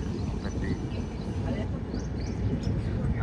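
A train rumbles steadily near Prayagraj outer, a continuous loud low roar of wheels and carriage noise throughout with faint indistinct voices mixed in.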